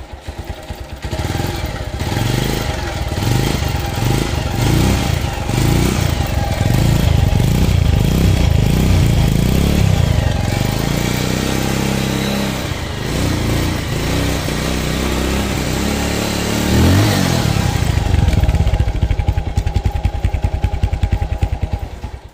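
A motorcycle left unused for a week is cold-started with a low battery. The engine catches and runs loudly and close for the whole stretch, idling with an uneven, clattery throb and a few revs and fluctuations in pitch.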